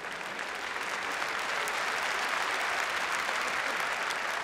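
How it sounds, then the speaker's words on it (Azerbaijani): A crowd applauds at a gathering to welcome musicians back, sustained dense clapping that stays loud and even throughout with no pause. "Alqışlarla musulquçuları məclisə qaytaraq."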